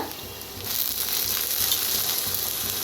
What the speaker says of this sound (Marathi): कांदा ही चांगला भाजलेला आहे बघा आता त्याच्यातच टाकूया डाळ